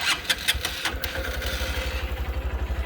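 A Honda CB125F motorcycle engine cranks with a few sharp clicks, then catches and settles into a steady, rapid idle thump close by.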